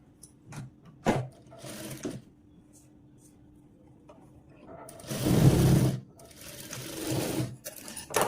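Sewing machine stitching a blouse shoulder seam, heard in short bursts of close mechanical whirring, with a longer run of stitching near the end between quiet pauses.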